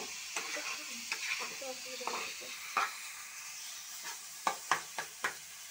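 Chowmein ingredients with a pinch of salt frying in a pan, a steady sizzle broken by scattered scraping stirs that grow sharper and louder toward the end, with faint talk in the background.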